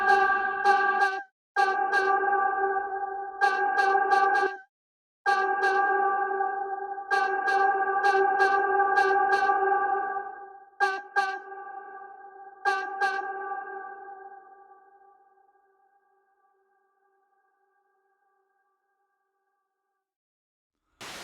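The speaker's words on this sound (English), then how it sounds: "That's how you create convolution reverb" A bright, tonal synthesized sound plays in short repeated bursts with gaps, then rings out into a long reverberant tail that fades to silence.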